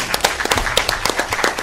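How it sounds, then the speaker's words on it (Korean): Law students at a debate event clapping together, a short burst of scattered, lively handclaps in a room. "우리를 위해서 한번 박수 쳐볼까요?"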